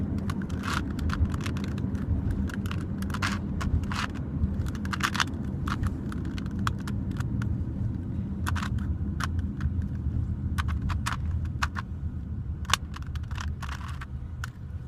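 A Rubik's cube turned rapidly by hand, with a stream of close, sharp plastic clicks and rattles in quick bursts over a steady low background hum.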